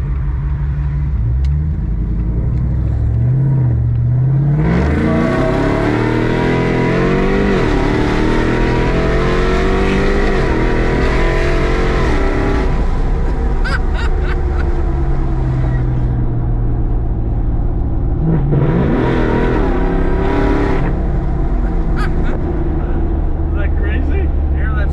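A Lamborghini engine revs hard close by, rising in loud sweeping roars with crackling pops as the exhaust shoots fire, easing off between bursts before a second shorter rev, with a voice speaking over it.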